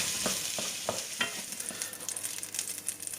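Peppers frying in a little oil in a pan, a soft sizzle with scraping stirs and light clicks of a utensil, close and fairly quiet.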